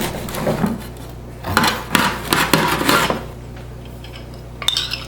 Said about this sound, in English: So we'll cut the bread in half.